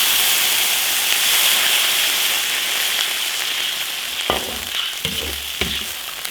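Garlic, chilli sauce, Sichuan peppercorns and dried chillies stir-fry in an iron wok with a loud, steady sizzle, then water goes in near the end, breaking into bursts of crackling hiss.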